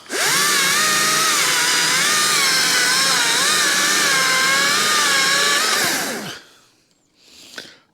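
A chainsaw running a dull chain through a cut, its high buzzing whine loud and steady with slight pitch wavering for about six seconds before dropping away, then a short fainter burst near the end.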